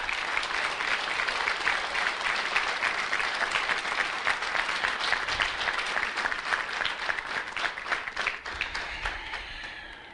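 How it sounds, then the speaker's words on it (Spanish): A church congregation applauding the Lord at a preacher's sermon, a full, sustained burst of many hands clapping at close range that holds strong for about eight seconds before starting to thin out. "Dale un aplauso al Señor, por favor."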